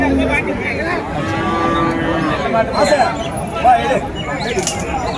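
Native cattle low repeatedly at a village livestock market in Uthangarai, Krishnagiri district, their calls mixing with nearby voices and crowd babble that run through the whole stretch.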